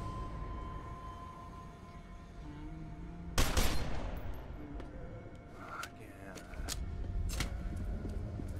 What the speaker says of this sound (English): Follow the sound of my gunshots, Keegan.